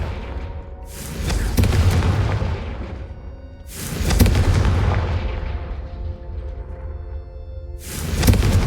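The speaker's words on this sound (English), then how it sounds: "Have a go at those candelabras. Confringo!" Three heavy booming blasts from a Confringo fire spell striking candelabras in Hogwarts Legacy, each a loud explosive burst with a long rumbling tail, spaced a few seconds apart.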